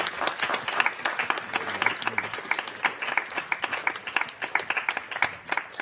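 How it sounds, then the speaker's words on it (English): An audience at a high school symphonic winds and percussion concert claps steadily, a dense run of many hands applauding with irregular sharp claps, moderately loud and continuous, with no talking over it. "So let's clap it up for all those folks, please."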